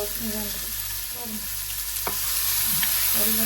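Crab meat stirred in a pan over low heat sizzles steadily, with repeated scraping strokes of a spoon and a sharp knock partway through, close and alone without speech.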